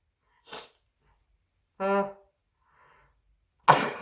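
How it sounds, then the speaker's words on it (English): A single sharp sneeze bursts out after a soft breath and a short vocal sound, in an otherwise quiet room. "I'm sneezing."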